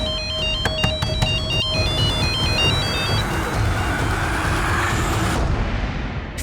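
A phone ringtone plays as a call comes in, a loud, repeating electronic melody over steady background noise, cutting off after about three seconds while the ambience continues.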